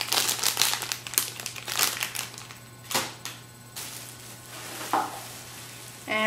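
Loud crinkling of a plastic bag of chips, in bursts of crackles and rustles with short pauses, handled close by.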